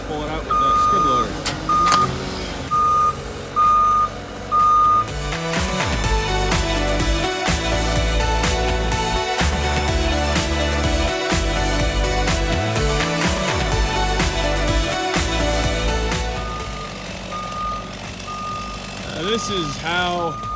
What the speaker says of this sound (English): going to pull it out with that skid loader